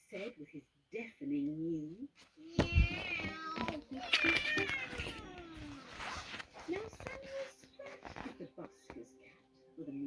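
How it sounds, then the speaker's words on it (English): A cat meows a few times amid voices and rustling, with one long, strained meow standing out loudly near the middle. "meow that is loud and strong"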